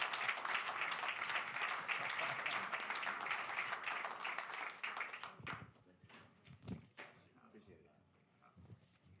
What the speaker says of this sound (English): Please give the governor a big round of applause.